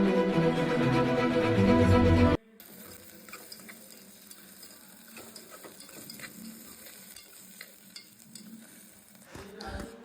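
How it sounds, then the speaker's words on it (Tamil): Onion, garlic, tomato and ginger fry quietly in a pan, giving a soft sizzle with scattered clicks of stirring, after a louder burst of sound of another kind at the start. "இந்த மாதிரி நல்லா பொன்னிறமாக நல்லா வதக்கி எடுத்து வச்சுக்கோங்க."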